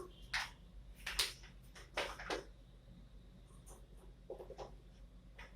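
A child's answer being handwritten on paper, soft scratchy pen or pencil strokes in short bursts with pauses between, close but faint in a quiet room.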